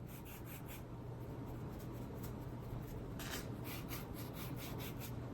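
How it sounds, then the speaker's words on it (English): A dry paintbrush dragged across dry watercolor paper to build texture, giving soft steady scratchy rubbing strokes close to the mic, with a run of brighter brushes toward the end. "You can even hear my brush."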